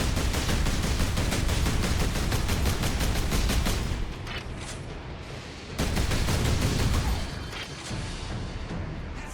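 Rapid, sustained bolt gun fire in Warhammer 40,000: Space Marine, dense automatic bursts loud and close, with a brief lull near the middle before the shooting resumes, no talk.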